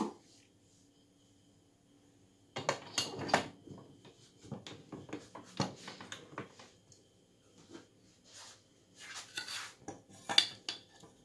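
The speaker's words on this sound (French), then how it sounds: "Mélange lait avec du cacao." Milk and cocoa being mixed in a bowl for a marble cake, heard as a run of close clinks, scrapes and taps of utensil against dish that starts after a quiet opening and continues irregularly to the end.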